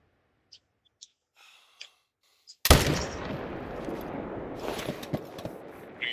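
Air defense forces intercepting incoming Iranian ballistic missiles near Al Udeid Air Base in Qatar. A few faint clicks come first, then a sudden loud blast opens into a sustained roaring rumble with scattered sharp cracks.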